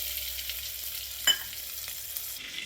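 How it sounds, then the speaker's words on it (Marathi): Ghee heats in a pot over a medium gas flame for semolina porridge, giving a soft, steady, quiet sizzle. One brief clink of utensil against metal breaks in near the middle, and no voices are heard. "आपलं तूप गरम होतंय बघा"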